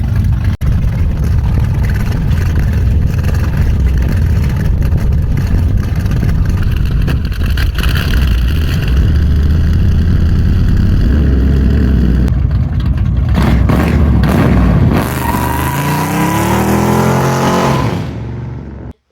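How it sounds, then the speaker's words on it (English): A 1968 Camaro SS 396 with a freshly installed Moser 4.11 TrueTrac 12-bolt differential runs in gear while jacked up, a loud sustained V8 drone that holds steady, changes pitch near the end, then cuts off abruptly. "I'm going to jack the car up and we're going to run it in first gear and then in reverse"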